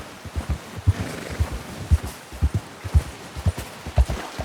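Horse hooves clip-clopping in Red Dead Redemption II, a steady walking gait of close, fairly loud thuds in an even four-beat rhythm, heard alone without talk.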